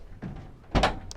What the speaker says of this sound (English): Ensuring I open the back of the bus up,